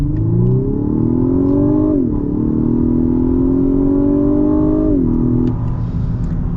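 A 2021 Lexus LS 500 F Sport pulls away hard with traction and stability control switched off, its engine note climbing steadily through two brief shift dips, loud and close with no talk over it.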